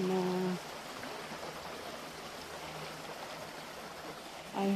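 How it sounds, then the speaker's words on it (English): Stream water flowing in a continuous gentle rush, a soft even burble heard close by, with a brief voice at the start and end. "And I'm just gonna film this stream water in here."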